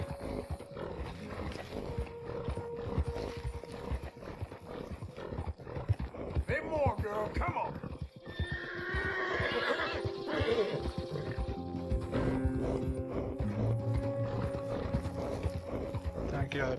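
A horse in Red Dead Redemption 2 whinnies and snorts while its hooves clop steadily, with talking over much of it.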